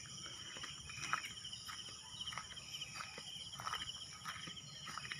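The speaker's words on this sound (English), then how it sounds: "Can even hear the crickets." Faint, steady cricket chirping in the distance in a garden in Rosario, Batangas, Philippines, a thin high trill over a quiet outdoor hum with a few soft thuds.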